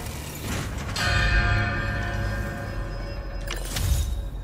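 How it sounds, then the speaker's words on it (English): A small bell-shaped object is struck to recreate Kraven's bell in the Spider-Man 2 video game, and each hit rings out with a heavy echo. Two resonant strikes sound, each leaving a long ringing tail over a low rumble. "Gotta recreate the sound of Kraven's bell."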